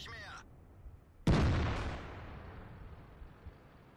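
A tank cannon shot in World of Tanks, a sudden loud blast with a long rumbling decay, preceded by a brief chirpy game sound and a quiet stretch, ending in low background rumble.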